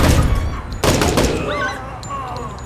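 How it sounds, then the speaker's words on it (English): A flashbang grenade detonates in the Door Kickers 2 video game as one sharp, loud bang that cuts through steady gunfire and game noise, with a voice talking underneath. "Let's throw the flashbang."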